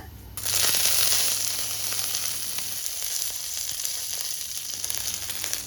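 Curry leaves and tempering spices splutter and crackle in hot oil while making dosa, a loud, steady sizzle rising suddenly at the start and continuing close up with no one talking.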